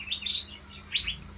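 Birds in an aviary, a few quick bright chirps in two short bursts, fairly close and clear over a faint low background hum.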